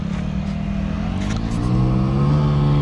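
A motorcycle engine hums steadily close by, then rises in pitch as it revs up toward the end.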